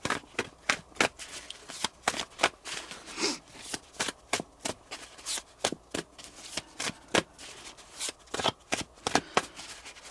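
Handmade tarot cards are shuffled close up in a quick run of crisp riffling snaps and soft slides, repeating steadily throughout with no talking.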